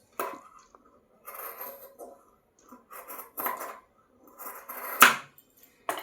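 Scissors snip through cloth in a series of short, close, crisp cuts with pauses between them, with one sharper metallic click near the end, while a cap tassel is being made.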